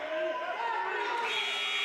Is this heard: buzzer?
yes